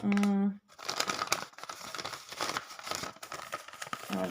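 Close crinkling and rustling of a plastic packet being handled, in irregular bursts after a short vocal note at the start.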